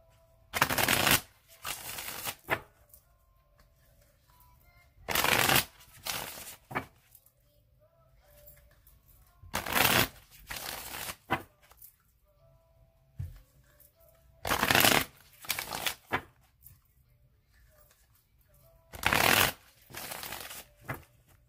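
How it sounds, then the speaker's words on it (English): Tarot cards being shuffled in five separate bursts spaced a few seconds apart, each a crisp riffling flutter, close and clear with quiet gaps and no talk between them. "I'm going to shuffle it three more times"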